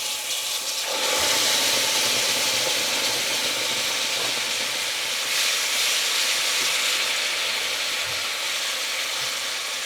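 Asafoetida and masala spices frying in oil in a pan on a low gas flame give a loud, steady sizzling hiss that swells in after the first second and carries on unbroken.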